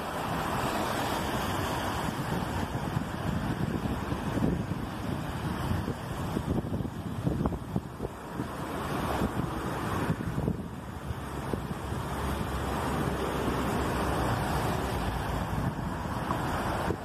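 A small urban river in Sheffield running high and in full spate during Storm Eunice, a steady loud rushing roar of water mixed with gusty wind buffeting throughout, with no voices.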